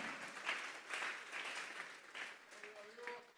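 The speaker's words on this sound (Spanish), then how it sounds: "Denles ofrenda de palmas a Dios en esta hora." A church congregation claps during a Sunday service, a dense patter of hands that rises and falls in several swells, moderately loud, with tonal voices or music creeping in near the end.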